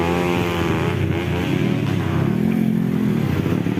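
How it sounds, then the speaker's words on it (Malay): Loud, steady engine drone of motorcycles revving and passing nearby, with a rising pitch sweep partway through. "Duk main motor geng, duk race."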